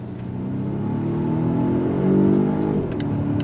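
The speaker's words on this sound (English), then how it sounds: "We're gonna go on throttle. You ready? On throttle, here we go." A 2026 Volvo XC90 T8 Ultra plug-in hybrid luxury SUV rated at 455 horsepower accelerates at full throttle, its engine droning steadily and rising in pitch before easing slightly near the end, heard from inside the cabin.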